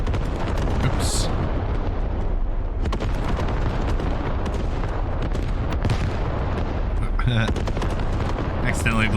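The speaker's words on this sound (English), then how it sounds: "Accidentally blew the heli up." A helicopter blown up in the military shooter game Squad: a dense, loud stretch of explosive booms and gunfire-like blasts fills the whole span, with sharp bursts near the start and again toward the end, and a voice speaking over it.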